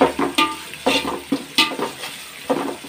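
Sliced onions sautéing in oil for home-made chicken dum biryani, a steady sizzle broken by repeated scraping strokes of a spoon stirring in the pan, about five rhythmic stirs, close and clear.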